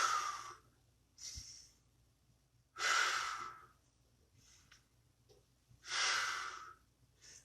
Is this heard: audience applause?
no